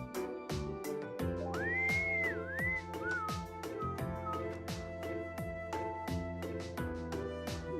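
A character in the video game Trails of Cold Steel whistles a short, wandering tune that rises and falls over steady background music, clear and close.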